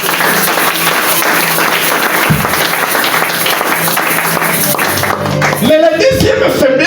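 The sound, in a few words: congregation applauding and cheering the Lord in church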